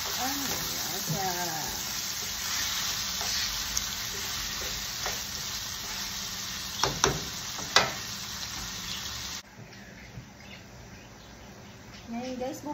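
Taco filling with seasoning powder sizzling in a frying pan as it is stirred, a dense steady hiss with a few sharp scrapes and taps, growing quieter toward the end, with brief talk at the start.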